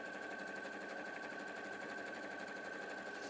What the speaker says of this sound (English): Let's sew that really quickly.